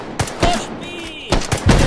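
Gunfire in the VR shooter H3VR: several sharp broadband bursts spaced irregularly across about two seconds, loud and close, with a faint tonal ring between shots.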